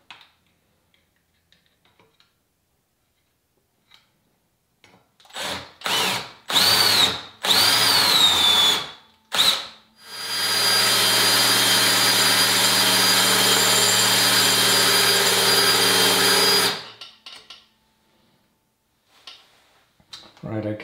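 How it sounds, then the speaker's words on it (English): A power drill bores into a metal pivot lubricated with cutting oil, starting with several short whirring bursts before a long steady high-pitched run of about seven seconds, loud and close. "I'm going to use a slightly larger drill."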